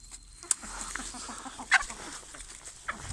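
Dwarf Sundheimer chickens and a rooster cluck softly in a backyard flock, giving scattered low clucks with a few sharper, brief calls. All of it stays faint and somewhat distant over a steady background hiss.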